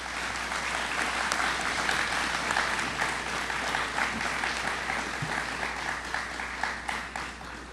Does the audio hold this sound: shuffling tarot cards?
no